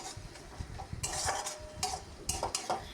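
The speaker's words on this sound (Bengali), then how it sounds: "টমেটো, কাঁচা লঙ্কাটাকে নেড়ে চেড়ে এভাবেই কষিয়ে নিতে হবে।" Onion, tomato and green chili being stirred in a pan with a spatula, giving irregular scraping clacks and soft sizzling, close and moderately loud with no talk.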